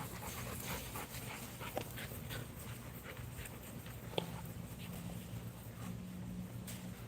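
Dogs of the Americane da Presa breed pant steadily and faintly while playing with shoes, a soft continuous breathing rhythm with a few small scuffs and clicks and no talking.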